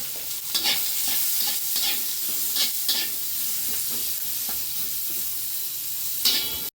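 Chopped onion and 8-10 garlic cloves fry in oil while being stirred, a steady close sizzle with repeated scraping strokes across the pan and no talking.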